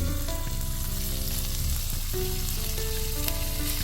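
Beef rib meat sizzles steadily in a hot pan while being grilled outdoors during a car-camping trip, a constant close crackling fry with no voices.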